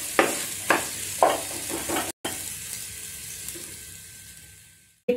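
Onions sizzling and frying in a pan for a Bagara Baingan eggplant curry, with a few stirring scrapes early on, then a steady close hiss; no talking.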